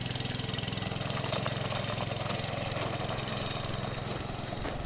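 A newly acquired go-kart engine runs steadily at a loud, close rumble, its small motor chugging with a rough, knocking texture throughout and no talking over it.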